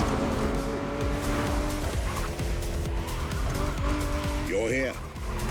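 Ferrari F50 supercar racing in The Crew Motorfest, engine roaring continuously with rising and falling revs and tire squeal toward the end, while a voice speaks over it.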